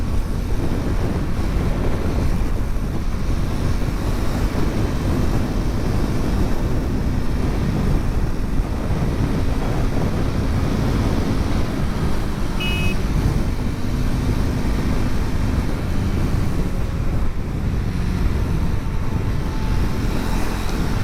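Steady broadband wind roar from riding a Triumph Scrambler 400 X motorcycle, with engine rumble underneath, loud and continuous throughout without a break and no voices.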